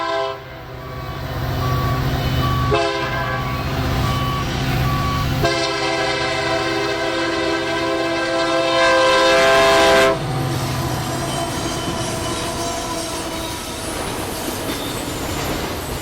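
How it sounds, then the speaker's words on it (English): A westbound Union Pacific autorack and intermodal freight train rumbles past on sweeping mainline curves with loud, sustained horn blasts, squealing wheels and the steady clatter of rail cars. "we caught a Union Pacific Autorack and Intermodal train headed west through the sweeping curves"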